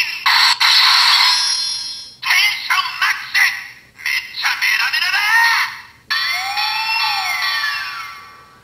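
A toy fire engine siren from a Kiramei Changer brace in summoning mode plays as loud electronic wailing bursts with chirpy effects, stopping and restarting several times before a long sweeping siren tone.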